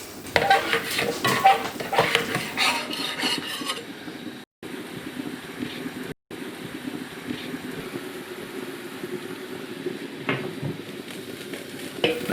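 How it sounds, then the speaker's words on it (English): Pan being deglazed with apple cider after cooking pork, a steady sizzle with stirring and scraping of a utensil against the pan, with clinks of cookware, continuous and close throughout. "I'm actually going to deglaze this pan with some cider, apple cider"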